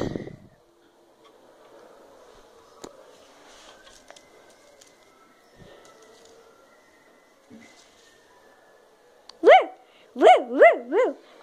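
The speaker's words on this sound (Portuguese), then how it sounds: "São os cachorros." Near, loud dog barks come late in a burst of about five, after a long stretch of quiet rustling and faint knocks.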